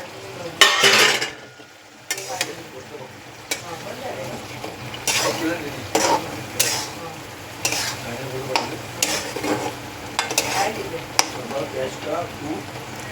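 Prawns hit a hot pan with spices, giving bursts of sharp sizzling and scraping stirring strokes at irregular intervals, close and fairly loud, while a person talks in between.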